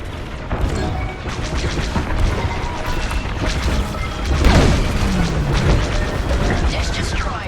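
Receiver dish blown apart in Star Wars: Squadrons, a loud crashing explosion with a descending burst of debris and booms around the middle, set over continuous starfighter engine roar and laser fire, with radio chatter nearby.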